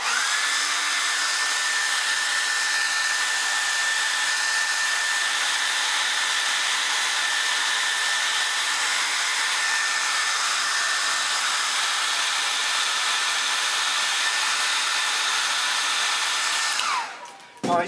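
A hair dryer drying a watercolour painting runs as a steady, loud, continuous whir at close range, holding an even tone for the whole stretch before it cuts off abruptly at the end.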